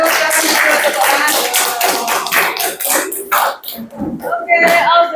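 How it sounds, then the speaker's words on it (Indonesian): A small group claps after introductions in a class session, a steady burst of close, bright handclaps with voices talking and laughing over them, thinning out toward the end before a final flurry. "Kasih tepuk tangan."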